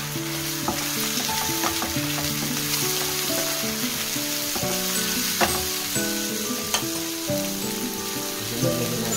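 Pechay greens frying with tocino in a pan give a dense, continuous sizzle, broken by sharp stirring clacks from a utensil at irregular intervals.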